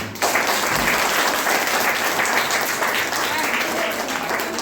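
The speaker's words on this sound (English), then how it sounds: "So clap for them also." An audience at a school birthday celebration and debate competition claps steadily and loudly throughout, a dense sustained round of applause starting abruptly.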